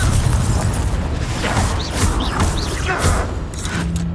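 Confringo explosion spell bursts in the video game Hogwarts Legacy, loud booming blasts and pops amid busy combat noise, with voices shouting over the action.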